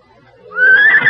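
A horse whinnies in a radio drama, one loud, close neigh that rises and swells over about half a second, heard alone.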